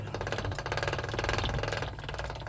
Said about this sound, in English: It's just a little hand crank jack.